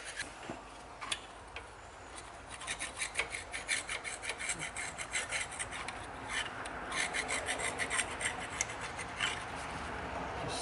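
A flat blade scraping old silicone gasket off a Ford Ka engine block at the thermostat housing, a close run of rapid rasping strokes in an uneven rhythm that grows busier midway.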